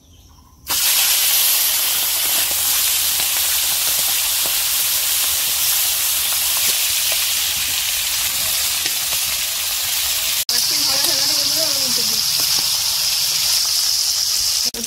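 Pieces of eel fish hit hot oil in a kadai with a sudden loud sizzle that settles into a steady, dense frying hiss, briefly broken near the end by a clatter before the sizzling resumes.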